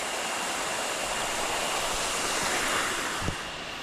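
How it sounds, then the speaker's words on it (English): Waterfall pouring beside a swimming hole near a resort in Drake Bay, Costa Rica, a steady broadband rush of falling water heard close and continuous, with a faint thump near the end and no talking. "See, there's the waterfall again,"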